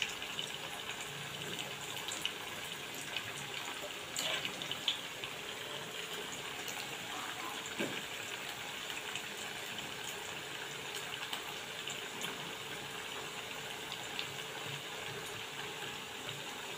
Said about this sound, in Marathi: आता हे चांगला फ्राय होऊ देऊया.